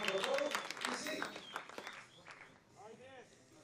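Crowd applause at a trampoline competition arena, a loud burst of clapping and cheering that fades over about two seconds under a commentator's voice, which carries on alone at the end.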